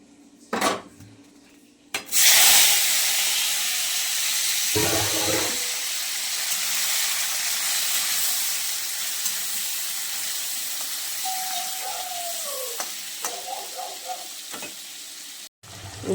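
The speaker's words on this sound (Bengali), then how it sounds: "এবার আমি তেল গরম হয়ে গেছে, মাছের তেলটা দেব।" Fish fat hits hot oil in a pan, after a clatter, and bursts into a loud, sustained sizzle that slowly settles, with a few pan knocks and scrapes near the end.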